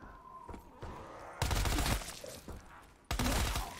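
An MP5 submachine gun fires in Black Ops 3 zombies on the EVKLA custom map: two loud, close bursts of rapid automatic fire cut in over a busy background of game noise.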